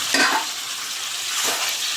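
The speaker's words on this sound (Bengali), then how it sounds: "এই যে মাংসটা দিয়ে দিচ্ছি, এটাকে ভাজবো" Meat goes into a pan with reddened fried onions and sizzles, a bright steady frying hiss with a couple of louder stirring scrapes, close and alone with no voices.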